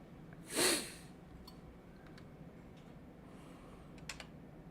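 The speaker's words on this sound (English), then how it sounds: "I guess you guys heard me sneeze" One sharp sneeze bursts out near the start, followed by quiet room tone with a few faint ticks and clicks.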